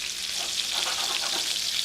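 Chicken cutlet frying in a pan, a loud continuous sizzle with crackling spatters, close and steady throughout with no talk.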